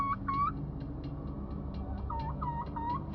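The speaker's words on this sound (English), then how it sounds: "Suddenly, from the surrounding woods, they hear a strange sound. Turkey gobbling." A wild turkey gobbles from surrounding woods in two rapid, warbling bursts, one at the start and another near the end, moderately close over a low, quiet background.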